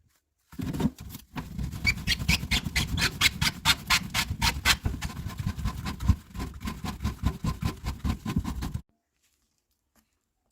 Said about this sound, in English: The trap nuts are now loosened